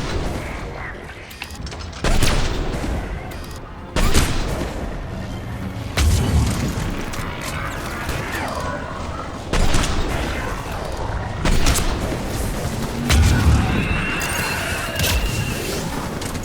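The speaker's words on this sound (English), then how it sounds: "We're taking heavy fire from the second story." Heavy gunfire in Mass Effect 3, booming shots and bursts recurring every couple of seconds under a dense battle din, loud and close throughout.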